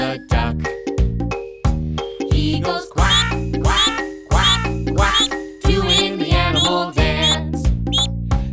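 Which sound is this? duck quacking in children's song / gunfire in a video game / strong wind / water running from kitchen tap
duck quacking in children's song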